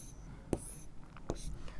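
A pen or chalk writes numbers for a subtraction problem in a primary school maths lesson, with two brief scratching strokes over quiet room tone and no talk.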